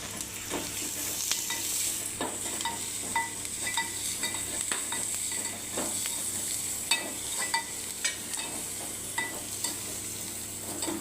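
Garlic frying in hot oil for a Bondi curry: a steady, close sizzle runs throughout, broken by frequent sharp clicks and scrapes of a utensil stirring the pan.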